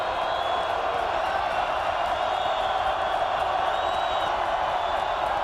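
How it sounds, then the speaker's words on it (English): A stadium crowd at a college football playoff game in NCAA Football 2025, Yale at Montana State, roars as a dense, steady wash of noise that holds throughout without a break. "And Yale is playing against this crowd too."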